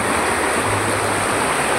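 River water flows over a shallow stretch of the Magdalena River in Liliw, Laguna, in the Philippines, near a hanging bridge. It makes a steady, broad rushing wash that continues without a break throughout.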